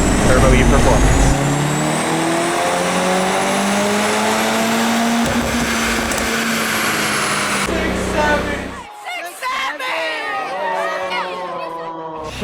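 A 2025 Mercedes-Benz C63 S AMG E Performance, tuned with a JB4 on Map 4 and running an E30 fuel mix, revs with a loud engine drone that climbs steadily in pitch for about eight seconds, then drops away into quieter, broken engine noise.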